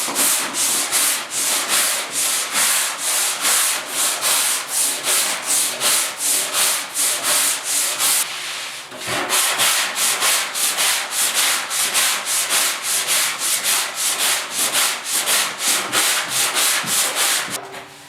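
80-grit sandpaper scrubs the tailgate of a 1972 Ford 4x4 short-box truck in rapid, even back-and-forth strokes, loud and close. There is a brief pause midway, then the steady rhythm resumes. Nobody speaks.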